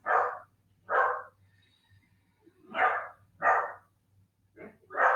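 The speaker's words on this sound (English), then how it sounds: "Notice the distraction of the dogs" Several dogs bark in repeated loud bursts, six clear barks spaced roughly a second apart with brief pauses, over a low steady hum during a quiet yoga class.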